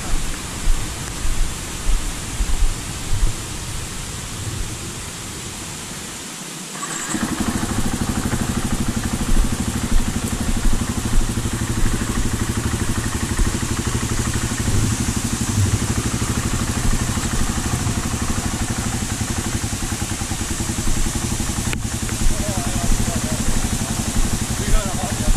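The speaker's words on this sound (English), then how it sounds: "Apparently he's going to take the bikes over." Motorcycles run near a gold mine in British Columbia, a continuous engine drone that kicks up louder after a brief dip and holds steady, with people talking at times.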